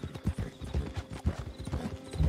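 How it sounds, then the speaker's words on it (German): Horses in the video game Red Dead Redemption 2 clop along on the ground, a rapid uneven run of heavy hoofbeats close by, with a faint whinny mixed in. "Oh, Pferde, wow, Pferde."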